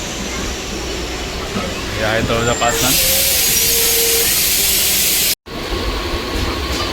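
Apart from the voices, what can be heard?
Panvel–Vasai MEMU train at station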